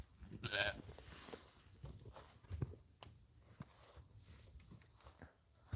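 Farm sheep give a short, loud bleat near the start, then softer scattered animal sounds and small knocks follow at close range, with no talking.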